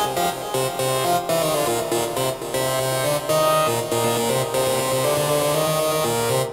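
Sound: hypnotic techno synth patch

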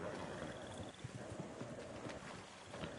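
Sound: horse Ronnie walking, hooves clip-clopping

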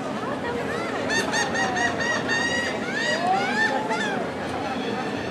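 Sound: birds, geese honking at the seaside

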